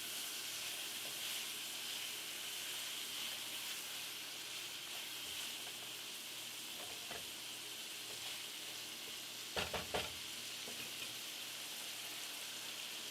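Onion cooking down in a pan, a faint, steady sizzle hissing evenly in the background, with a brief burst of clanks from stirring near the end.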